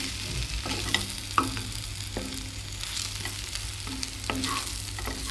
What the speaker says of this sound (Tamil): நல்லா ஒரு மிக்ஸ் கொடுத்துப்போம்